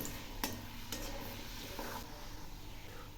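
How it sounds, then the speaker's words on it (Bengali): Chana dal frying in a kadai, stirred in small bursts with a few light scrapes over a steady soft sizzle, quiet and close with no talking. "এখন আমি ভেজে নিচ্ছি ছোটো 1 বাটি ছোলার ডাল।"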